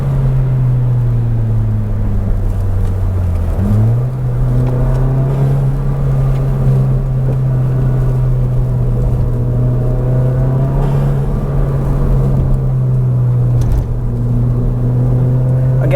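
A tuned Volkswagen MK7 GTI with an EQT tune drives a back road, its engine a steady low drone heard from inside the car, with pitch shifts as it changes gear and revs rise and fall.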